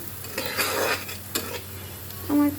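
Onions and chilies fry in a pan with a steady sizzle, interrupted by several close scraping stirs and a few metallic clinks of a spatula against the pan.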